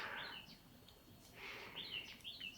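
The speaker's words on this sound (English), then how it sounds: "Oh, the birds are back." Birds chirp and twitter outdoors, faint and somewhat distant, with a few short high calls repeated in loose bursts over a quiet background.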